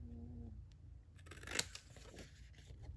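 Paper being cut at a slight angle with scissors for a DIY flat-mail pocket, a short quiet snip-and-slide sound heard close up with no talking.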